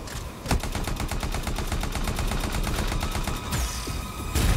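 Rapid automatic gunfire in Anthem, the flying-robot shooter, rattling off as a fast, even stream of shots for about three seconds, followed by a pause and then a fresh burst.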